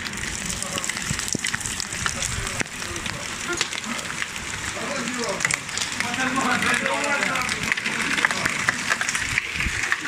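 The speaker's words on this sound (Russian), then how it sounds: "Это град!" Hail falls in Kyiv, a dense patter of sharp ticks and taps on hard surfaces that grows heavier, while people nearby talk over it.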